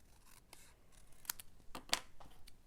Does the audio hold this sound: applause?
no